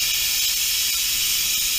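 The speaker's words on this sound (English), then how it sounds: "the cooking's done and we're gonna let the pressure escape" An Instant Pot electric pressure cooker vents steam after cooking breakfast jars, a loud, steady, close-up hiss that holds without a break and has no talking over it.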